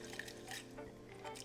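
Lentils pour into a pot of water, making a soft, steady patter of small dripping and splashing sounds, faint and close, with no voices.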